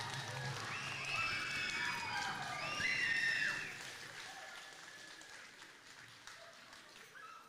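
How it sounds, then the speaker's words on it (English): A room of officials and guests applauds the signing of a Little Red River First Nation regional education agreement, a full wash of clapping with a few whistles or cheers that swells, then fades after a few seconds into quieter room noise. "Let's get a round of applause."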